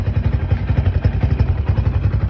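A modified Hero Splendour motorcycle engine idles steadily up close, a low, even, throbbing putter with a rattly mechanical edge, no voices.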